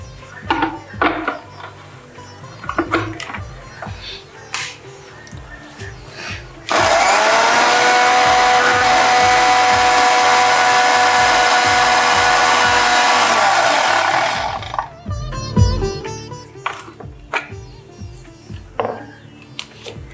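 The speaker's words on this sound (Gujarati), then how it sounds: "હવે તેને આપણે મિક્સરમાં કરી દઈશું" A mixer blender whirs loudly and steadily for about eight seconds blending a milkshake with ice cream, bracketed by clinks and clatter of kitchen utensils before and after.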